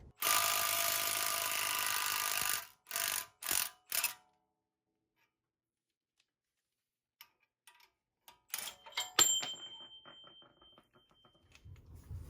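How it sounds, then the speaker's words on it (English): A screw press is tightened down to push the upper ball joint out of a control arm on a third-generation Toyota 4Runner. A loud, sustained whirring burst gives way to short bursts, then scattered metallic clicks and ticks. "Chris is going to screw this down and press the ball joint out."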